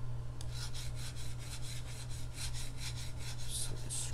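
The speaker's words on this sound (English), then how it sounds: "So scrape off this residue." Residue being scraped off a 3D printer bed, a close, quiet rasping with repeated back-and-forth strokes in a steady rhythm, accompanied by a constant low electrical hum.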